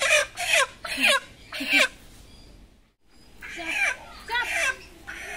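Free-roaming chickens clucking nearby in short, repeated bursts, several calls in a row, then a brief pause before more clucks, with a person talking faintly in the background.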